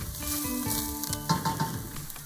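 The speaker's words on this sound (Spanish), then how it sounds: "cuando esté caliente agregamos la parte blanca de la cebolla, el ajo y el jengibre. Sofreímos moviendo para que no se pegue." Onion whites, garlic and ginger sizzle in hot sesame oil while being stirred in a pan, a close, steady frying hiss broken by a few clinks and scrapes of the utensil.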